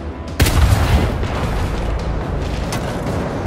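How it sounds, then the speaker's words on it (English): A bomb detonates in the video game Gears 5, one sudden deep boom followed by a long, loud rumbling wash of debris and noise that fills the rest of the moment. "Bomb's about to blow!"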